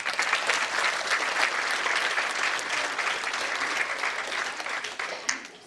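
Dense, steady applause from an audience at a taekwondo competition, the ITF Ontario Cup, sustained at an even loud level throughout with a faint crowd murmur beneath and one sharper clap near the end.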